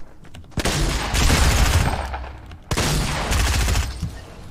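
Dense bursts of gunfire from the tank video game TANX come in two long, loud volleys of rapid shots, each starting with a sharp crack and rolling on, with no talk over them.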